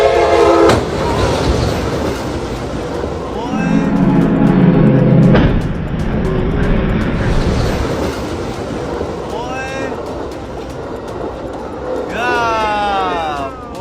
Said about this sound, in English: Train hits trailer with furniture in Ackworth, Georgia